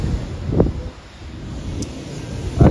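Strong wind buffets the microphone on the deck of the Costa Smeralda cruise ship, a continuous roaring rush with a few sharp gusts and thumps.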